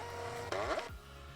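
A portable label printer prints a test page: a short, close mechanical whir of about half a second rising over a quiet room hum, then stopping, with no talk.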